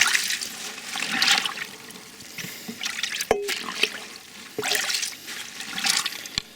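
Garden scraps pushed down into water in a ferment tank, giving close sloshing, gurgling and dripping with a few sharp splashes and knocks, no talk.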